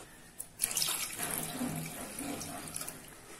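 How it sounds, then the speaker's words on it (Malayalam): A cup of water pours into a pan while making grape vanilla layered pudding, a steady close splashing stream starting after a short quiet moment and running continuously to the end, no talking. "അതിനുശേഷം ഒരു കപ്പ് വെള്ളം ഒഴിക്കണം."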